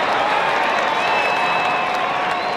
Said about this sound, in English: Big roar from the Adelaide crowd.